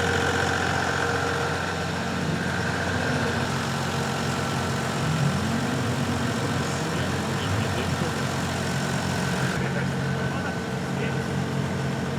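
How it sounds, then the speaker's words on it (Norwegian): A diesel BMW drift car idles steadily, a continuous rumbling engine hum that stays even throughout, with voices faintly mixed in. "Nå har BMW stått så lenge på tomgang at den kokte"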